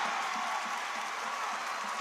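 At Knights Hall, a basketball crowd cheers and applauds after a made three-pointer, a steady broad roar of clapping and cheering heard at some distance without a break.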